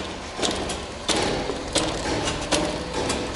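A bifold hangar door made by Diamond Doors lifts from the bottom and folds in half, giving a continuous loud mechanical rush broken by several dull clunks and thuds at irregular intervals.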